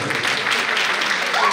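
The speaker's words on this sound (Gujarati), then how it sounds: "એકવાર જોરદાર તાળી થઈ દેવી જોઈએ" A burst of audience applause at a women's gathering and music festival, following a performance by young women of the community. The clapping is dense, steady and moderately loud, lasting throughout the short stretch.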